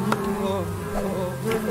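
A swarm of bees in a video game buzzes loudly and continuously, the droning hum rising and falling slightly, with faint clicks and no speech.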